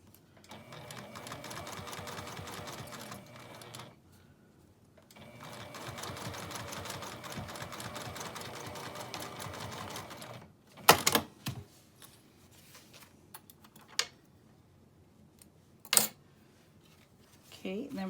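A sewing machine stitches a zipper in two steady runs of rapid mechanical whirring separated by a pause, followed by sharp clicks and knocks as the fabric is adjusted, close and clear.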